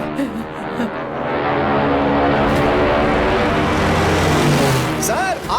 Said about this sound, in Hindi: सर, 8 जापानी विमान इस इलाके में बमबारी करने आए हैं।